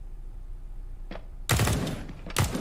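Bursts of MAC-10 submachine gun fire during a Counter-Strike match on the Nuke map: a short quiet pop, then a loud sustained rattling burst and a second sharp burst near the end.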